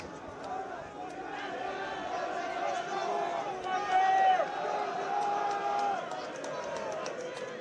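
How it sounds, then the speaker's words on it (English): Crowd at a Terenure versus Lansdowne rugby match, a steady roar of many voices swelling slightly in the middle, with commentary spoken over it. "the crowd are starting to up the decibels"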